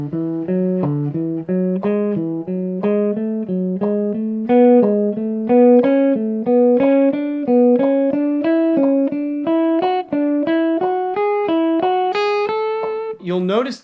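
Groups of four notes climb steadily in eighth-note triplets, each crisp tone stepping upward in a continuous run over a click, clear and close, ending with a brief higher flourish.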